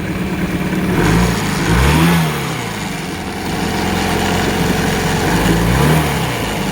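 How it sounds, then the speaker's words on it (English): A 10 horsepower Honda outboard motor runs steadily at close range, its mid-pitched engine drone rising and falling in two brief revving swells over a constant idle, with no talking. "I fired up our 10 horsepower Honda outboard just to run it"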